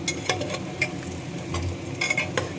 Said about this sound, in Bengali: দেখো আলুগুলো ভাজতে দিয়ে দিয়েছি।